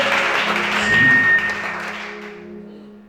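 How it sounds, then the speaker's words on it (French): Congregation at a church service breaks into loud applause that swells, peaks near the middle and then slowly tapers off, with faint thumps mixed in. "Acclamez ça."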